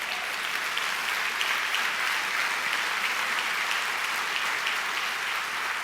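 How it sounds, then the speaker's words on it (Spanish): Sustained applause from a church congregation fills the whole stretch, a dense, steady wash of clapping without any break or speech over it. "Denle el aplauso a Dios."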